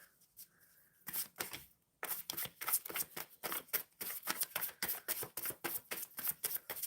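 A deck of cards is shuffled for a card pull, giving quiet riffling bursts followed by a rapid run of rhythmic flicks, close by with no talking.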